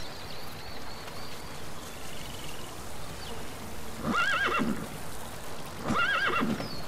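Two short horse whinnies in the Metal Gear Solid 5 video game, each a rising-falling neigh lasting about half a second, heard over a faint ambient outdoor background.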